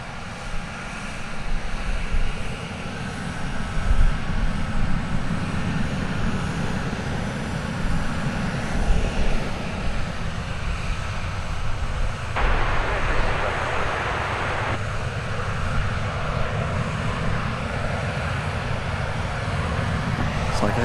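An airliner taking off at DFW Airport produces a steady, loud engine roar that holds for the whole stretch with a slight swell, while a voice talks over it intermittently.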